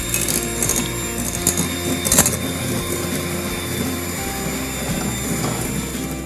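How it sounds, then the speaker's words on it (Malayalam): An electric mixer beats sugar for a milk powder cake, with a steady, close motor whir and a few scattered clicks and rattles. "അത് ഇട്ടിട്ട് നമുക്ക് നന്നായിട്ടൊന്ന് ബീറ്റ് ചെയ്തെടുക്കാം."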